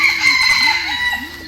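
A chicken clucks close by at a zoo in Ubon Ratchathani, Thailand, in a few quick, repeated bursts, loud and clear against a bright, noisy outdoor background.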